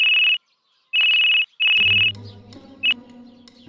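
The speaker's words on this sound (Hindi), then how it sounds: "किसका फोन आ गया भाई?" An electronic phone ringtone sounds in three loud bursts with short gaps, then a fourth brief chirp, while a musical backing comes in underneath. Comic village sketch setting, with no voices.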